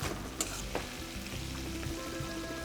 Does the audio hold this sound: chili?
yes